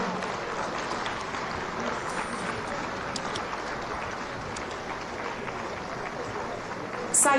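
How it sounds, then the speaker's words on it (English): An audience at a Nigerian Society of Engineers investiture ceremony keeps up a broad, sustained round of applause that holds steady throughout, with a brief louder burst right at the end. "We keep clapping until she gets here."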